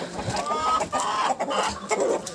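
Several hens cluck close by in a farmyard flock, a busy run of short overlapping calls throughout, with rustling and movement in the background.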